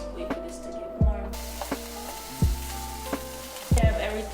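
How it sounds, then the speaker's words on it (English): Vegetables sizzling in a frying pan for a vegan dish, a steady crackling hiss punctuated by several sharp clanks and thumps of stirring utensils against the pan, close and fairly loud with no talking. "Have everything sizzling."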